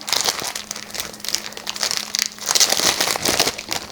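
Packaging for watercolour brushes being opened by hand, with continuous close crinkling and rustling of plastic and paper in quick irregular bursts, no talking.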